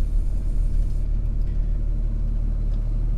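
A 2008 Dodge RAM 2500 pickup's Cummins inline-six turbo diesel of about 330 horsepower idles with a steady, loud low rumble and no voices.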